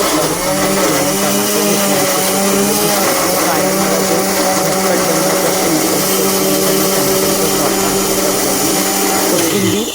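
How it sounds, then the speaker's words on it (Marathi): A mixer grinder grinding tomato masala in a home kitchen runs as a loud, steady motorised whir for the whole stretch, a continuous droning hum with a slight dip near the end. "एकीकडे मिक्सर लावून घेतलं"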